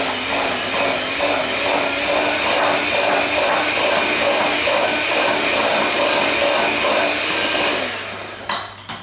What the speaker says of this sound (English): I'm just going to cream all of these ingredients together again.